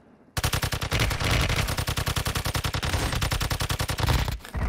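Sustained automatic weapon fire in Call of Duty Warzone Mobile, a loud, fast, even stream of shots running nearly nonstop for about four seconds before a brief break and a final burst.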